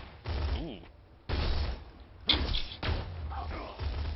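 Gunfire in the video game Borderlands 2: several loud bursts of shots in separate clusters, mixed with someone talking.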